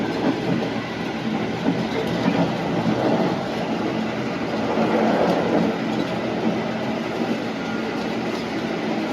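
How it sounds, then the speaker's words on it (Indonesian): A Turangga Executive train speeds through Ngawi station at around 108–110 km/h, giving a dense, constant roar of wheels and rushing air with faint rhythmic clatter, steady and loud throughout from inside the carriage. "Kita ngebut melintas langsung stasiun Ngawi ya"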